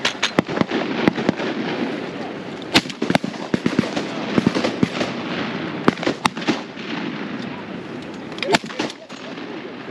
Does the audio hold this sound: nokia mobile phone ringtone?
no